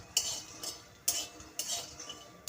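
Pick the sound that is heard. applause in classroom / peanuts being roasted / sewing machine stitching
peanuts being roasted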